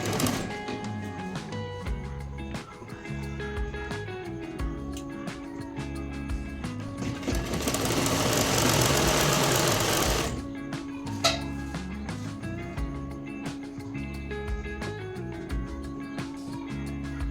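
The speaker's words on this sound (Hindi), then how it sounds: "तो देखिए हम सिल लेते हैं।" A sewing machine stitching a salwar, its mechanical whirr steady for the whole run, with a burst of broader rushing noise partway through before the even stitching resumes.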